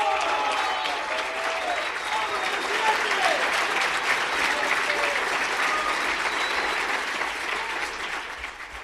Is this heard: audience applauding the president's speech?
yes